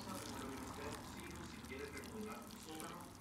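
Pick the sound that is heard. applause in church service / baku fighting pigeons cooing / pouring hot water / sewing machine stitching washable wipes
pouring hot water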